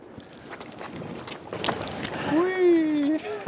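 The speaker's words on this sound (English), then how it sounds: "It's so windy I can barely hear what you're saying" Strong wind buffets the microphone out on the ice during ice fishing, a rough gusting rumble that swells and fades, with a person's voice calling out over it.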